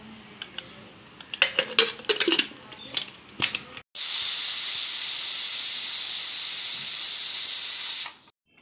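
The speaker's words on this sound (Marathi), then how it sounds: "आता आपण 4 शिट्ट्या होईपर्यंत ही डाळ शिजवून घेऊयात।" First some clattering and tapping in a kitchen, then a pressure cooker cooking toor and moong dal lets off a loud, steady whistle of hissing steam for about four seconds before it cuts off abruptly.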